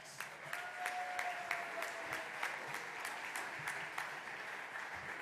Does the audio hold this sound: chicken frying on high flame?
no